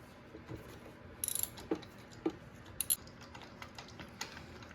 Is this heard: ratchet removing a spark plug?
yes